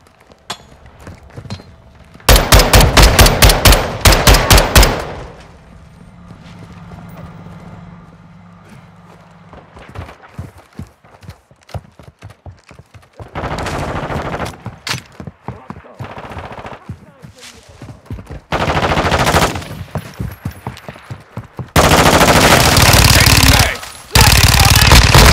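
Bursts of rapid automatic gunfire from Call of Duty: Modern Warfare II come in several loud, chattering volleys. Quieter stretches between them carry scattered shots and clatter, and brief radio-style speech appears between bursts.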